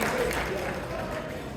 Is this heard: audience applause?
yes